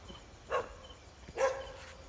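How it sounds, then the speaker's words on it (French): Dogs bark outdoors at a distance, two short, faint barks about a second apart over a quiet background hum. "Là, les chiens, ils sont en train de nous faire."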